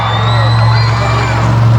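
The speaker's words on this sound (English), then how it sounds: "Listen to this crowd." A crowd cheers and shouts at the Tri City Speedway in Franklin, Pennsylvania, during a Renegade MTT dirt race, a steady dense roar of voices with whoops and yells over a constant low engine drone.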